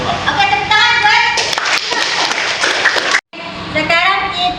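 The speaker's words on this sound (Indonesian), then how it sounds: "tepuk tangan guys" A class of children at school claps hands together, a dense burst of loud applause from a nearby group that breaks off briefly and then resumes, with young voices mixed in.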